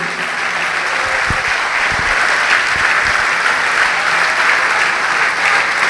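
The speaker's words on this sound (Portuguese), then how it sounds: "Vamos aplaudir o Senhor por isso." A church congregation applauding: loud, sustained clapping from a large crowd filling the space evenly, with a few louder nearby claps and faint voices underneath.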